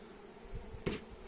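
Bees fly around a beehive in the morning, making a faint, steady buzzing hum with a brief louder pass as one comes close, and no talking.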